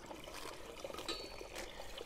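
A pump that is deepening a well pours out water in a steady trickling, splashing stream that runs the whole time, fairly faint and with no speech.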